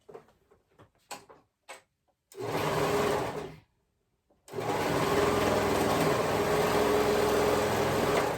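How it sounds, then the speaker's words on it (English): A sewing machine stitches the side seams of a dress, with a few soft clicks and taps first, then a short burst of steady whirring, a pause, and a longer run of loud, close, continuous stitching. "match the two raw edges together, the two sides together, and sew it together"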